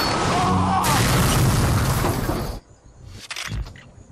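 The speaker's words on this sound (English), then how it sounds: "Exploding bullets!" Exploding bullets from the No More Heroes video game burst in a loud, dense blast that fills the first two and a half seconds, then drops to scattered smaller crackles and pops.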